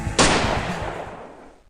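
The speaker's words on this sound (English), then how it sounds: "2 gunshots. Actually, that was 3 total." A loud, close gunshot cracks out and its echo rolls away over more than a second in a tense crime drama scene.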